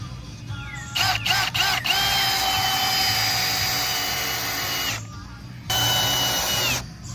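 Power tool fastening a frangible support device to the base of a vertical pole, with whining bursts of driving that start and stop over steady background noise, close and moderately loud, with no talk.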